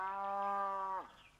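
A cow gives one long, close moo with a steady pitch that drops sharply at the end and fades into quiet.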